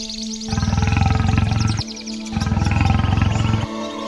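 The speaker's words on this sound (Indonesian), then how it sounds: "Aku yakin itu singa atau harimau pemangsa manusia." A big cat, a lion or tiger, roars loudly twice in deep, drawn-out sustained calls, close and alone over a steady background.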